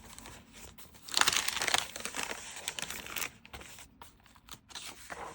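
Sheets of handmade paper in a junk journal rustle and crinkle as they are handled, with a louder burst of crumpling early on followed by lighter intermittent shuffles and page movements.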